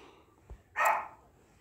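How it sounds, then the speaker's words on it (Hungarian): A pet dog gives a single short bark at a distance in a quiet home, preceded by a faint thump, with no one talking. "Elnézést, a kutyám ugat egy kicsit."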